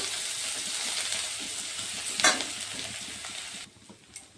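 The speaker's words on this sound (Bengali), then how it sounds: "এই যে লঙ্কাগুলো ভাজা হয়ে গেছে, এখন আমি দিয়ে দিচ্ছি এটার মধ্যে আদা বাটা" Ginger paste tipped into hot oil with fried chillies for a Bengali bottle gourd and moong dal ghonto, giving a steady loud sizzle with stirring, a brief burst midway, then quieting near the end.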